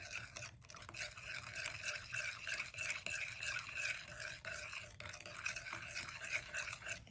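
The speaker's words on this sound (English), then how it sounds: "Just mix it around with a spoon" A spoon stirs a thick olive oil mixture in a bowl for keto flatbread, a steady soft scraping and slurping that runs the whole time at a low, close level with no talk.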